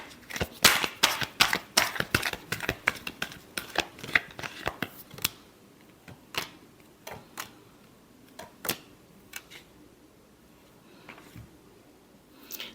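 Tarot cards being shuffled in quick bursts of crisp riffling snaps, dense at first, then thinning to a few scattered flicks, close and fairly quiet with no talk.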